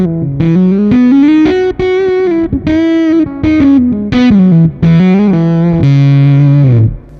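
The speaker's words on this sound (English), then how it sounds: "The delay on it is a slapback, and it has a fuzz, and the fuzz is quite cool" Electric guitar played through an effects pedal set to slapback delay and fuzz, a loud, buzzy distorted melody of sustained notes and short phrases with a quick echo.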